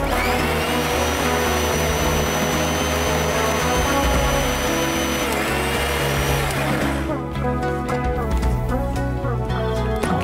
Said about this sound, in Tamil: ஸோ ஃபைன், பேஸ்ட்டாக அரைச்சிருக்கோம்